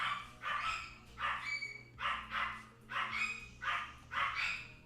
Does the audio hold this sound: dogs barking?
yes